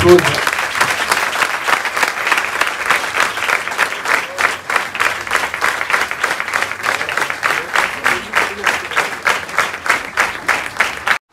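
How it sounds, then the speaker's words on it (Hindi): A church congregation claps together in steady, rhythmic unison during a Hindi worship service, loud, close and sustained for about eleven seconds. "हाँ चलो ताली बजाएंगे।"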